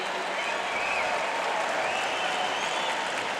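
A tennis crowd at the US Open applauds steadily before a serve, a dense wash of clapping heard from a distance, even and sustained throughout.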